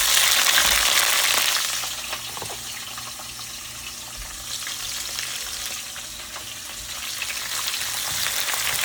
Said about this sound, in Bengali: দিলাম পেঁয়াজটা একটু ভাজা হোক।